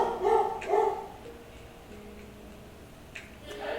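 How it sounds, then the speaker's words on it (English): Pet dog barking indoors: two sharp, close barks in quick succession, followed by quieter ticking sounds and faint room noise. "sorry, that's my dog."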